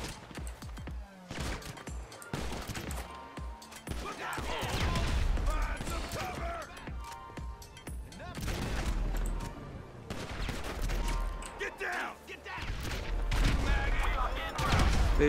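Bursts of GTA 5 gunfire crackle repeatedly in a police shootout, some rapid and automatic, mixed with mechanical clanks and a constant low rumble.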